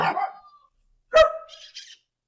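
A dog lets out a single sharp bark after a fading earlier yelp, followed by a brief high chirp, nearby and otherwise quiet.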